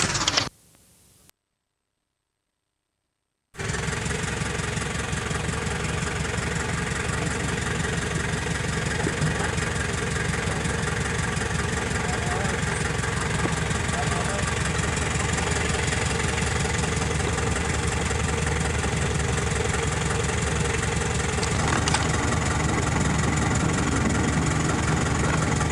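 A tractor engine on a farm in St Thomas, Jamaica, runs continuously with a loud, steady low rumble after a brief dropout near the start, with faint voices now and then.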